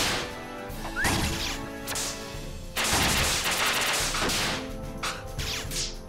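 Video game gunfire: several sharp bursts and crashing impacts in clusters, loud and close, separated by short quieter gaps.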